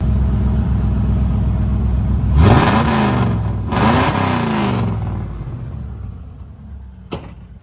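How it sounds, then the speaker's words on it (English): A Ford Bronco with its exhaust mufflers removed revs twice in quick succession, each blip rising and falling in a loud deep rasp over a steady idle rumble, which then settles and fades. "I had them take those mufflers out just so I can get this sound."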